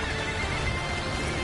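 A brief horse neigh rises over a thick, constant battlefield din in the Dynasty Warriors Origins video game, with faint hoofbeats beneath.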